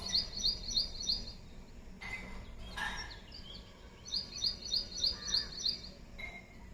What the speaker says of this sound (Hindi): तो ये दूसरी बर्ड्स बोल रही हैं यहाँ पे,